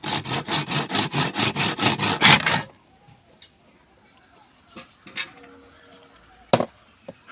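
Rapid rhythmic chopping into a piece of bamboo with a blade, a quick run of about a dozen firm strokes close by, then stopping, followed by a few scattered light knocks and handling sounds.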